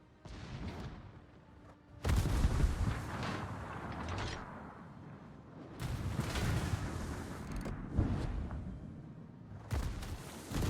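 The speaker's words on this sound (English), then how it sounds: "Cavour shooting AP." Conte di Cavour battleship guns boom in heavy salvos during a World of Warships match, three loud blasts with rumbling tails, spaced a few seconds apart.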